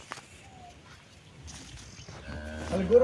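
A heavy dairy cow bred for high milk yield lets out a low moo that builds toward the end, close by, with faint barn noises and distant bird sounds.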